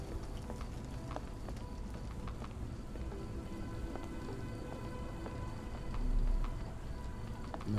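Steady rain falls throughout a scene in the Sherlock Holmes The Awakened video game, a dense continuous hiss with scattered drop taps and a brief low swell near the end, with no talking.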